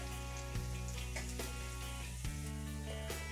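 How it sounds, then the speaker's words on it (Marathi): Chopped garlic sizzling in hot oil with crackling cumin and mustard seeds while cooking green onion bhaji, a steady close frying hiss with a few soft stirring clicks. "यामध्येच मी कापून ठेवलेलं लसूण टाकून देते"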